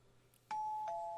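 A doorbell in the video game Creepy Creepy Love sounds a clear two-tone ding-dong chime after a brief quiet moment, bright and close with the second tone ringing on.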